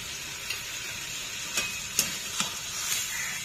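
Chopped tomato and turmeric fry in a pan with a soft steady sizzle, broken by a few light clicks of a utensil.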